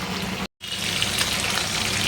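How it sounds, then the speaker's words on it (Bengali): Small pieces of fish frying in hot oil give a steady, close crackling sizzle that cuts out for a moment and then resumes at an even level. "দেখো বন্ধুরা মাছ ভাজা হচ্ছে"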